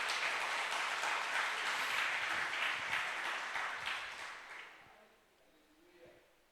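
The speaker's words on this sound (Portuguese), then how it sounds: "Pode aplaudir o Senhor." A church congregation applauds during a sermon, a sustained wave of clapping for about four seconds that tapers off into quieter room sound.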